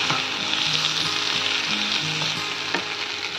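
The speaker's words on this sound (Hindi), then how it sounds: "अभी मसाले में मैंने चिकन डाल दिया, उसके साथ ही चिकन को भूनना है" Chicken pieces frying in Indian masala in a pan, a steady close sizzle with soft scraping of a spoon underneath, with no one talking.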